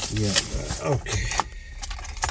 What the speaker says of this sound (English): I'm getting the other keys out.